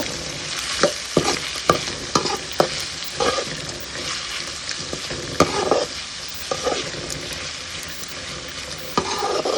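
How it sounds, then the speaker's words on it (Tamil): Onions, green chillies and curry leaves sizzle in hot oil, with repeated clinks and scrapes of a spoon stirring the pan close by, while making black urad dal adai. "இப்போ நறுக்கி வச்சுருக்க வெங்காயம், பச்சை மிளகா, கறிவேப்பிலெல்லாம் சேர்த்துருங்க. இது கொஞ்சம் நல்லா வதக்கிக்கோங்க."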